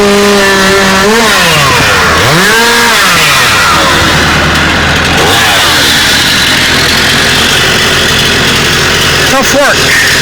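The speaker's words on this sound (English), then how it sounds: "So here I have my team and we're cutting bushes." A tractor cutting bushes and clearing forest trees, a loud close engine that revs and labours in rising and falling pitch sweeps, with heavy mechanical grinding throughout and someone talking over it.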